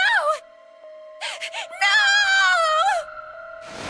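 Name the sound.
June screaming in the video game 999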